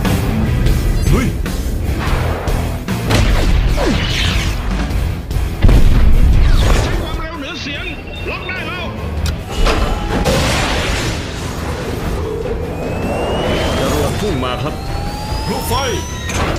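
Booming flares fired in a Transformers-style animation, a run of heavy blasts, crashes and rumbling bursts with a brief lull midway, followed by whooshing sweeps.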